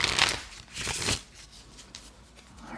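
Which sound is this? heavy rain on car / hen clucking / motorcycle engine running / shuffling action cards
shuffling action cards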